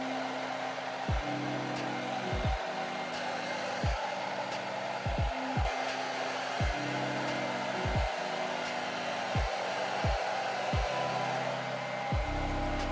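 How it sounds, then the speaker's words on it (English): A hair dryer blow-drying long hair gives a constant loud whoosh of airflow, with its pitch dipping in repeated brief swoops roughly every second as the dryer moves, and no talking. "So I'll blow dry like that"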